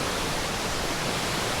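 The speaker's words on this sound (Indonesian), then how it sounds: "air terjun mini bagus" A small waterfall in the Baturaden forest park gives a loud, steady, broadband rushing roar of falling water, close and continuous with no talking.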